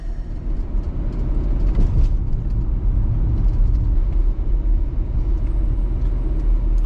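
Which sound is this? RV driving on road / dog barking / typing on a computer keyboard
RV driving on road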